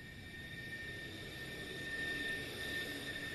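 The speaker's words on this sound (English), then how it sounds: "that will put the airplane noise now in my video" An airplane sound effect from a mobile video editor plays a steady jet engine roar, rising slightly in loudness, with high whining tones over it.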